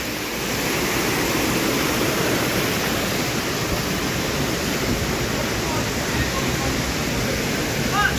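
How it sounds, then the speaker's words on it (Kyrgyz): The waterfall at Arstanbap roars in a steady, full wash of white noise, close and loud, barely changing from start to finish. "Шаркыратма ушул жерде экен."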